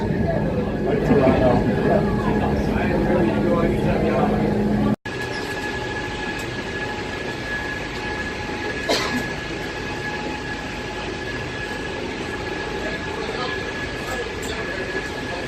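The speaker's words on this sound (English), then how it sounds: "Tram's coming. Whole thing's shaking." Tram car arriving inside the Gateway Arch in St. Louis: a steady mechanical rumble with humming tones and rattling that shakes the enclosure, continuous and fairly close, with a brief dropout and faint voices underneath.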